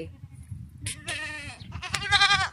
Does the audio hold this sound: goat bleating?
yes